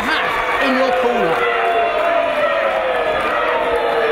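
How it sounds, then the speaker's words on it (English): A wrestling crowd in Hull jeers and shouts in reaction to Rampage Brown, a dense, loud wash of voices filling the hall while a commentator talks over it. "This crowd here in Hull, absolutely not Rampage Brown fans, as you can hear"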